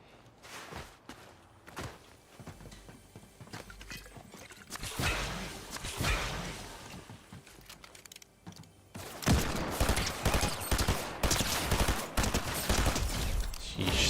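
Rapid bursts of SMG gunfire in the video game Fortnite rattle in dense, repeated volleys, growing louder and more sustained in the second half, with scattered footsteps and game effects between bursts.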